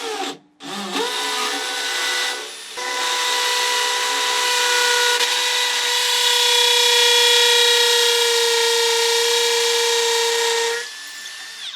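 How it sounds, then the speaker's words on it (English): A hammer drill driving screws into wood whines steadily at high speed for several seconds after a brief start, its tone holding level before cutting off, loud and close. "I'm just going to leave this in hammer drill for now and see how it does"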